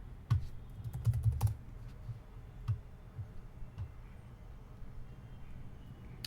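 A terminal update command being typed on a computer keyboard, heard as a quick burst of key clicks followed by a few sparse, spaced taps, close and fairly quiet with no talking.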